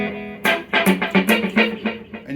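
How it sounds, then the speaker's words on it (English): Guitar through an effects pedal with reverb and delay: a quick run of picked notes, about seven distinct plucks, each blooming and trailing off into a washy tail, alone and moderately loud. "Oh, RVB, reverb level."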